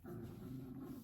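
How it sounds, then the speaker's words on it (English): Small dog growling from under a bed, a low continuous rumbling growl about a second long, close and fairly quiet. "That's Bella's little growl"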